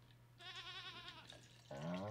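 A goat in the farming game Stardew Valley gives two short, quavering bleats, the second louder and lower, over a faint steady hum.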